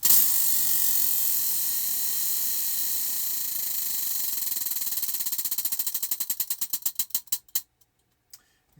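Prize wheel spun for crochet stitches, a rapid run of clicks that gradually slows, the ticks spacing out until the wheel stops near the end.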